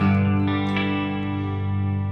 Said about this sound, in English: my clean sound, when I switch to it, is clean with chorus and reverb.